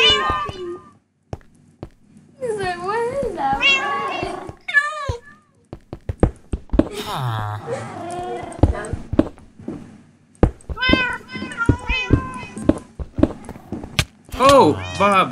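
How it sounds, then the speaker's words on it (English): Repeated meows from a cat in the Minecraft video game, interspersed with children talking and game thumps and clicks. "You hear a kitty?"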